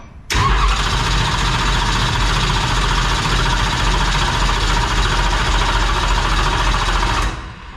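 A race engine being spun over with the starter to build oil pressure, a loud, steady mechanical whir that starts abruptly and holds evenly for about seven seconds before cutting off.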